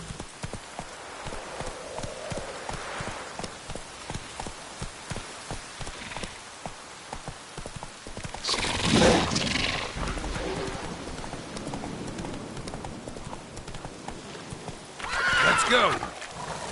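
Roach the horse in The Witcher 3 gallops with rapid clip-clopping hooves under a patter of rain, letting out two loud whinnies several seconds apart while a voice talks throughout.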